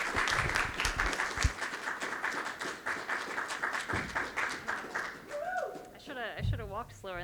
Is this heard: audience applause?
yes